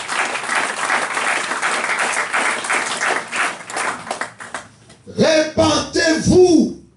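A church congregation claps and cheers loudly for several seconds in a dense, sustained burst of applause, then it fades and a voice speaks over the room.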